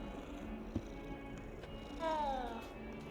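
Cats in the video game Hogwarts Legacy give a short chirp and then a longer rising meow-like call, soft and close, over a quiet game background with a faint low hum.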